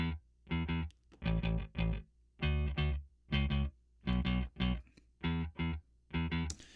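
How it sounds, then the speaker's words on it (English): A Native Instruments Rickenbacker bass plugin plays a punchy, gritty riff of about a dozen notes in a steady, bouncing rhythm, close and prominent, with no voices. "I found my Rickenbacker bass plugin"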